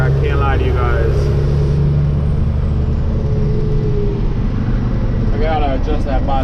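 Low, steady engine rumble from a dump truck on the move, with a brief hiss of air and a person speaking over the drone.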